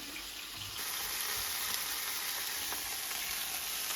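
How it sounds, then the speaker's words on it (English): Burgers fry in a pan with a steady, close sizzle that thickens after the first moment, with faint water-like hiss mixed in and no talking. "We're gonna fry some burgers today."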